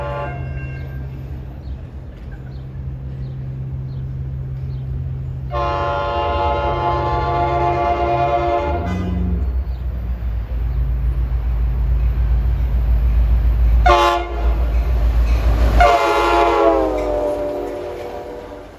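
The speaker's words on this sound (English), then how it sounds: "Port Jervis Expresses blast by honking their horns" An NJ Transit Port Jervis express rumbles loudly past a Main Street grade crossing in Upper Bergen County, New Jersey, sounding long, steady horn blasts over the heavy rolling of the train, with a second horn burst near the end.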